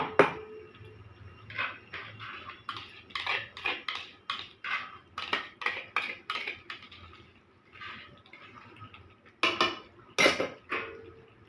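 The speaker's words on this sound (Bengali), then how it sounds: "এবার আমি ভালো করে চিকেনের সঙ্গে মিক্সড করে দিচ্ছি" Metal utensil mixing a green paste of spring onion leaves, coriander and green chilli into chicken in a pan, sounding as a rhythmic series of sharp scrapes and clinks against the pan, close and alone.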